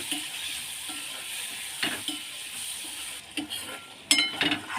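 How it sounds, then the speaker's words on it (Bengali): Potatoes stir-fried in a pan with chilli, turmeric and cumin powders and a splash of water, giving a soft sizzle with rhythmic scraping stirs and a few utensil clinks, no talking. "এবার এইগুলোকে মশলার সঙ্গে ভালো করে কষিয়ে নেব"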